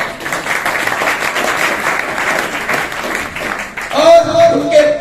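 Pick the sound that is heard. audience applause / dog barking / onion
audience applause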